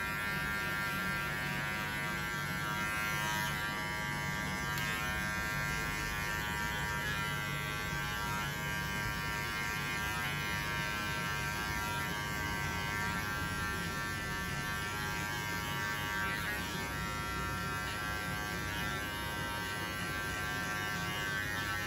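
Electric hair clipper cutting a skin fade haircut, a continuous close buzzing drone that holds steady throughout with no pauses.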